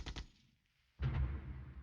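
Artillery bombardment in the war game Flashpoint Campaigns: Southern Storm: a couple of quick sharp reports, a short near-silent gap, then a heavy, loud rumbling blast that carries on to the end.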